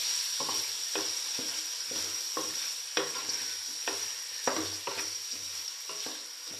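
Chopped tomatoes are stirred into beef karahi frying in a pan, a soft steady sizzle broken by repeated scraping stirs of the spoon, about one every half second, close and alone without talk.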